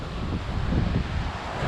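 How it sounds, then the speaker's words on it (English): Big ocean waves driven by typhoon winds roll against the Macau coast along Hac Sá, a steady low roar of surf mixed with heavy wind buffeting close to the microphone, with no talk. "Got some big waves."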